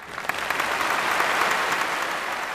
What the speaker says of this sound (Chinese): 谢谢大伙儿热情洋溢的掌声。